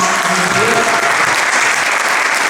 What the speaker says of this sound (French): Donc je vous permets de les applaudir en fait.